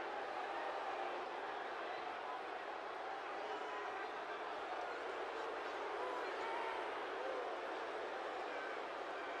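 Video game wrestling arena crowd in WWE 2K19, a steady dense roar of many fans, fairly faint and continuous with no distinct peaks.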